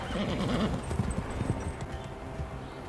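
Horse hooves clip-clop alongside a whinny in a Game of Thrones battle scene, with the neigh prominent early and hoofbeats continuing amid background noise.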